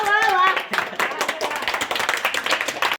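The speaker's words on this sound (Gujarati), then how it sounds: "વિધાન મારા તાળીઓ પાડતા હોય બધા મિત્રો" A group of friends clapping for the winner of a Gujarati village challenge game, a quick run of close, sharp hand claps that follows a brief voice.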